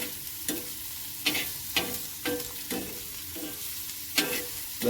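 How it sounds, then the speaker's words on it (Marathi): Onion fries with curry leaves and chilies in a pan, a steady sizzle punctuated by about seven sharp, regular scrapes of a spoon stirring, close up with no talking. "कढीपत्तो आणि मिरची टाकून झाला कांदो जरा लालसर होऊ दे चांगलं"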